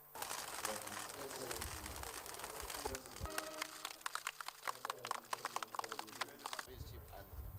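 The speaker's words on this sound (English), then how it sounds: "released some pigeons as symbol of peace, unity and prosperity" Pigeons are released at a Nigerian armed forces ceremony, giving a dense burst of wing flaps and fluttering over crowd noise and outdoor clatter, fairly faint and distant.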